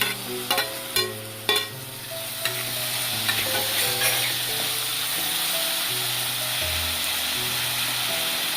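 Chopped tomatoes tipped into half-softened onions in a pan for a Kerala coconut-milk sardine curry, sizzling steadily with a few sharp clinks of a spoon against the pan early on, then continuous close frying and stirring.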